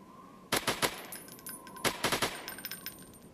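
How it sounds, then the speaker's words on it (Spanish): Bursts of gunfire from the Android shooting game Desert Wars, two loud clusters of rapid shots with a faint electronic tone before the first volley. "vamos a disparar desde acá a estos dos"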